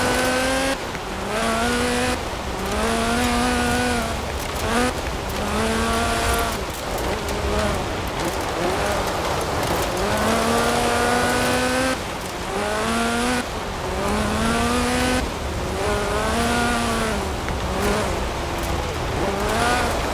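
A Lotus Sunbeam with a 2.2-litre slant four-cylinder engine making about 250 horsepower, driven in Forza Horizon 4: loud, close engine revving up through repeated gear shifts, with rising and falling pitch sweeps and occasional tire noise.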